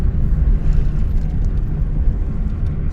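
A car drives at about 40 km/h in the wrong gear, its engine droning in a loud, steady, deep rumble that hums on without a break.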